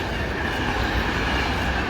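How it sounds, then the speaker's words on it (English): A train passes close by on the Portuguese Camino route, giving a loud, continuous rumble with rail noise that stays steady throughout. "It's a train."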